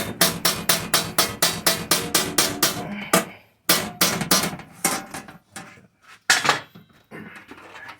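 A hammer strikes a metal edge bent over a curve to roll it, a rapid run of loud, evenly spaced metallic blows, then slower, irregular hits with pauses between them.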